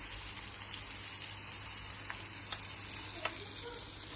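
Okra fries in oil in a pan, giving a faint, steady sizzle with scattered crackles and pops throughout, quiet and uninterrupted by any voice.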